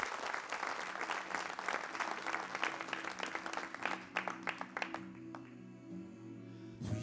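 Audience applause at a live French music event, dense clapping for about five seconds that then thins out and stops as a low sustained instrumental tone comes in underneath.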